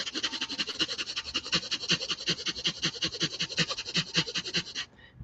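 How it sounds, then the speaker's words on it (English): A person breathes rapidly in and out through the nose, a fast, even, close huffing rhythm of about six breaths per second that runs steadily for five seconds, then stops. "breathe in and out as fast as you can through your nose"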